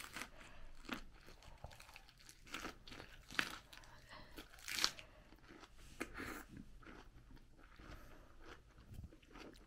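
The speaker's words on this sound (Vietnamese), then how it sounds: "anh cắn miếng to quá, nói không được luôn cả nhà" Someone bites into and chews a large mouthful of fish rolled in a wrap with fermented fish paste, with a few crunchy, crackly bites and close, wet chewing throughout, no talking.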